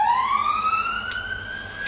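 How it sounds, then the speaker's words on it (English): A police car siren wails continuously outside, its tone rising steadily as it passes, fairly loud and alone with no talk. "Sorry about the sirens, guys,"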